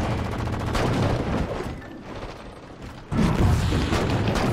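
SAW machine gun fire in Halo 4 Warzone is a loud, continuous rattle of rapid shots with mechanical clatter. It dips briefly in the middle, then resumes with a heavier, sharper burst, close and with no talking.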